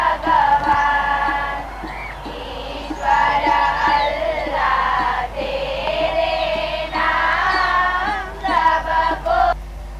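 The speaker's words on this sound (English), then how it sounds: "Motera Stadium is abuzz with excitement" A big excited crowd at Motera Stadium roars and cheers in surging waves, loud and dense, with chanting voices rising and falling throughout.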